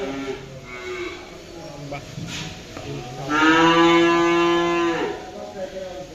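Cattle at a Qurbani livestock farm moo, with a long, loud, drawn-out moo in the middle of the clip standing out over quieter animal noise and faint voices.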